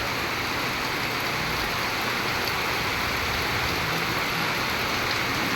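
Steady, dense rain falls on an afternoon, a constant even hiss with no breaks and no voices over it.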